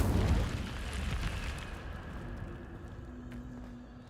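A fire spell cast in a fantasy wizarding video game, heard as a loud whooshing burst that swells at the start and then rolls off into a fading roar over about four seconds, with no talking.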